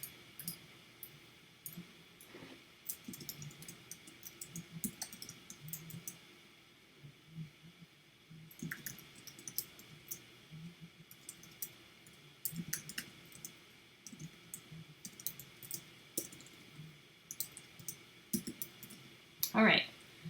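Soft, quick keyboard clicks tapping out text on a computer keyboard while designing a thumbnail in Canva, coming in irregular bursts across the stretch with brief pauses, fairly quiet and close with a faint background hum.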